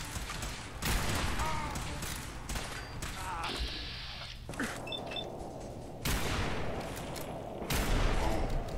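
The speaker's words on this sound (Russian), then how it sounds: "Крайне охуенная стрельба." Gunfire rings out in the video game Fallout 4: repeated sharp bursts of shots over mechanical game noise and ambience, loud and close, with several heavy volleys spread across the stretch.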